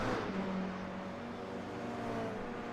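Toyota GR86 race car driving on track in a racing video game, its engine a continuous loud drone with faint tonal whine, steady and close with slight swells, no voices.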